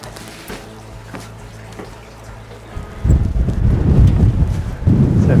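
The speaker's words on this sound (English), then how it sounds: "It is very windy and so cold." Strong, cold wind gusts across an exposed mountain summit of the Pinnacle in the Grampians, Australia, starting quiet and then roaring loudly into the microphone in sustained, buffeting bursts.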